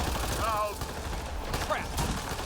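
Turret gunfire in the sci-fi shooter Mass Effect Andromeda, a dense crackle of shots running steadily across the moment with game effects and whooshes layered over it, fairly close and loud.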